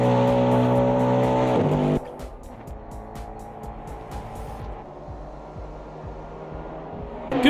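Race car engines roar loudly in the AMS2 racing game, including a remodeled BMW, with a dense, steady engine drone that drops abruptly to a lower, busier mix of revving motors and brief tire squeals.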